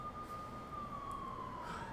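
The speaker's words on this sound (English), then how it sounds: "Look at all those police cars." A distant police siren in the video game Persona 5 Royal wails on one long tone that slowly drops in pitch, faint against a steady rumbling background.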